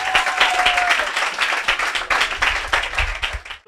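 Loud congregation applause with cheering in a church service acclaiming the Lord, dense clapping that runs steadily for several seconds before cutting off abruptly.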